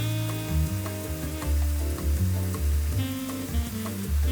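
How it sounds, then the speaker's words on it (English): Onions and peppers sauté in a pan with a steady, dense sizzle that runs the whole time, with music playing under it and no one speaking. "We're gonna basically saute these onions and peppers down."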